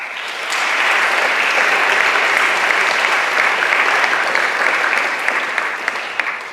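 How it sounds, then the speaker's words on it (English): Sustained applause from a school athletic assembly audience at Stanstead College, a dense steady wash of many hands clapping at full strength, then tapering slightly near the end. "And you can clap for that."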